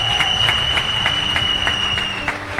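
Congregation applause at a church sermon, a steady wash of many hands clapping with rhythmic pulses, continuous and fairly loud over faint background tones.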